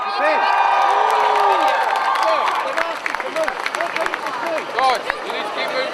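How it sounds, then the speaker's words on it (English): A rally crowd at a Palestine solidarity march cheers and applauds loudly, with shouts and whoops rising over close, sharp clapping that grows more scattered and uneven toward the end. "Give a big, warm round of applause for Rafif Zadieh."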